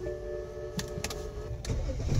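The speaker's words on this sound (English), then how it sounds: "Let me start the car now because I already programmed it." A BMW X5 E70 engine cranks and catches after an engine computer swap, a few sharp clicks followed by a rising, steady idle rumble up close.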